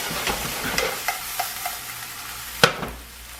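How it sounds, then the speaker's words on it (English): Egg whites whisked in a bowl for an omelette, a run of quick, close taps and scrapes at an even rhythm, ending in one sharp knock. "So you see how we beat it?"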